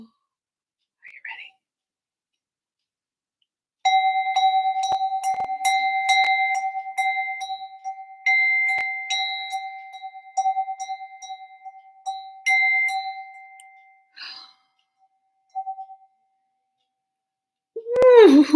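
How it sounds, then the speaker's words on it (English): A small hand bell rings in several bursts, each clear tone hanging on and slowly fading. A voice briefly breaks in near the end. "Talk about ring your bell."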